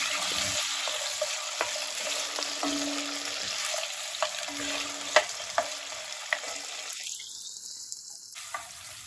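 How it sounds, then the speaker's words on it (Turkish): Carrot pieces being turned and sautéed in a pan, a steady close sizzle with scattered light clicks of the utensil against the pan, no voices. "Biraz da havuçları döndürelim."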